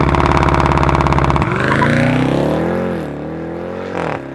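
A 2018 Jeep Trackhawk SUV launches hard under launch control, its engine roaring loudly and climbing in pitch as it accelerates, then easing off toward the end.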